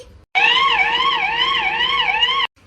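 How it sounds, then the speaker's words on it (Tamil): An ambulance siren wails in a fast, repeating up-and-down pattern, loud and close, starting and cutting off abruptly after about two seconds. "ஆம்புலன்ஸ் சத்தம் கேக்குது."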